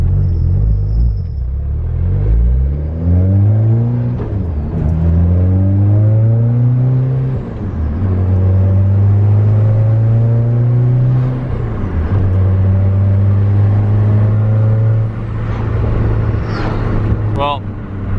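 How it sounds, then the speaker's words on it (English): An MK6 Volkswagen R car burning oil revs repeatedly in neutral, each blip rising and falling in pitch before settling into a steady idle drone, loud and close. "right before I put the car into neutral, I kind of give it a little rev"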